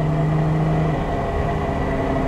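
A 1970 Mercedes 280 SL Pagode driven hard, its engine giving a steady close rumbling drone with a held tone that drops away partway through, no talk over it.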